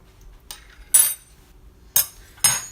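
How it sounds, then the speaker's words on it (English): A knife and spoon handled on a kitchen counter, giving four sharp metallic clinks and clatters, spaced irregularly with quiet between them and fairly close. "Knife and a spoon."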